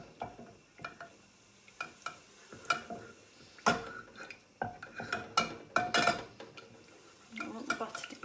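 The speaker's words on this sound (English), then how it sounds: "we're just going to melt down this butter and start the base of our sauce" Butter melts in a pan for a roux-based sauce, with soft sizzling under repeated clinks and scrapes of a utensil stirring against the pan, close and intermittent.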